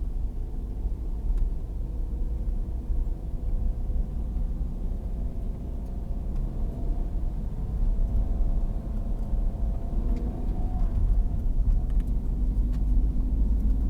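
A car drives along a road with a steady low engine rumble and tyre noise, continuous and unbroken, with no talking inside.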